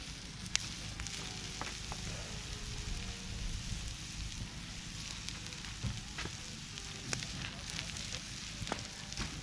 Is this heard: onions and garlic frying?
yes